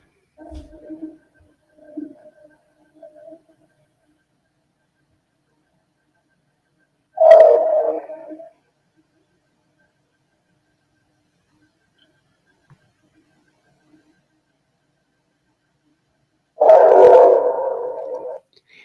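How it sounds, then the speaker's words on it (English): Near a house porch camera at night, a dog lets out two loud, drawn-out howling barks about ten seconds apart, with long silence between and a few faint short sounds beforehand. "does that dog seem way too close to this camera?"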